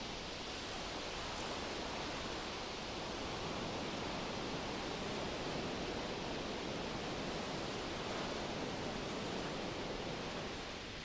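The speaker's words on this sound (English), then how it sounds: "The waves run in and then rush out again with a whoosh." Ocean waves roll onto a beach scattered with driftwood in a steady, even rush of surf, a soft continuous wash with no distinct breaks or voices.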